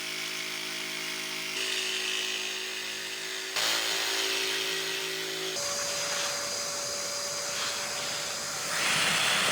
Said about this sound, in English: I've invested in one of these Triton spindle sander things